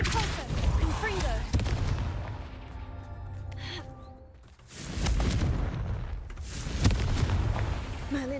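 Confringo and Depulso spell blasts fire in Hogwarts Legacy, loud booming bursts rolling and decaying one after another, with a brief lull in the middle before more heavy blasts.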